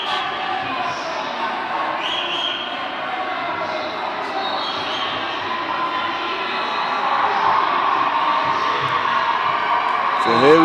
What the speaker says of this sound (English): The Belgian fans again making some noise for their team here.